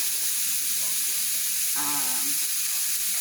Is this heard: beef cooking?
yes